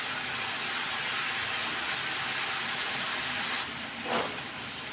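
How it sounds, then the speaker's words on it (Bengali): Fish curry masala with a little turmeric being stirred and fried in a pan makes a continuous loud hiss, then quiets near the end with a brief scrape of the spoon. "এখন এটাকে নাড়ায় চাড়ায় একটু ভাজা ভাজা করি"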